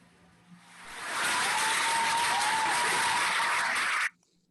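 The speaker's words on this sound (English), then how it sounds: "Let's give a round of applause to our Team Elite Phoenix, Ms. Raquel Corolla." Audience applause after an inspirational talk: a crowd of hands builds quickly into loud, dense clapping, holds steady for about three seconds, then cuts off abruptly to near silence.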